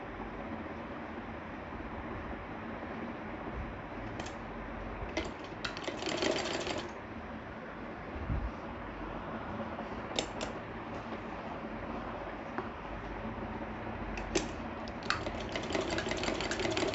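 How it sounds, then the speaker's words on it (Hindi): A sewing machine runs steadily while double-stitching a shirt collar, a continuous mechanical whir with short bursts of rapid clicking stitch runs recurring through the stretch; no talking. "अब यहाँ पे आपको स्टिचिंग करनी है, ध्यान से डबल स्टिचिंग कर लें ताकि खुल ना जाए कॉलर।"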